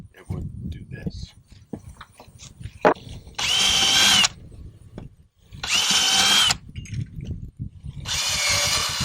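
A power drill bores into wood while building an American kestrel nest box, three loud sustained bursts of about a second each separated by pauses, with a person talking in between.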